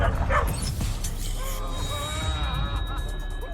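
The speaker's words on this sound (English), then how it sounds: "when a dogs are barking and he's freaking out and he's looking at the dogs" Small dogs yap and whimper in a tense scene from the live-action Cowboy Bebop series, a few quick barks early on, then thinner whining over a steady murmur of background sound and faint voices.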